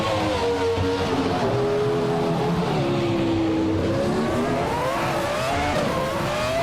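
A pack of race cars, led by a 1996 Ligier JS43, launching at the start of a race at the Cadegua GP circuit in a racing video game: loud, sustained engine roar with rising and falling revs as several cars accelerate together.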